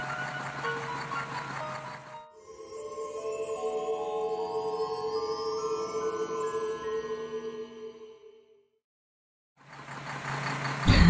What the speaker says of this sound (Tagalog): Pinapaandar na po kasi nila itong sasakyan.